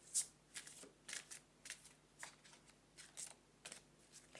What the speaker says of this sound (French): Je voudrais les battre encore un petit peu